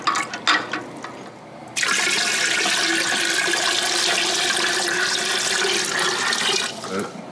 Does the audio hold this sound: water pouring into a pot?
yes